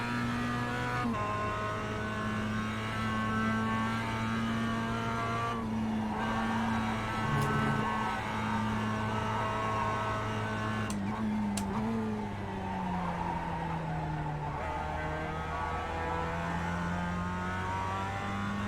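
A Mazda MX-5 race car laps Snetterton in a Supercup race, its engine droning loud and steady from on board, rising through the revs and dipping at several gear changes.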